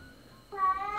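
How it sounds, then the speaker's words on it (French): A cat lets out a single short meow, close and fairly loud, rising out of near quiet in the second half. "Je crois que ton chat n'est pas d'accord."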